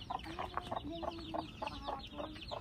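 Chickens cluck repeatedly in short, choppy bursts, a steady stream of clucks at moderate distance over faint background noise.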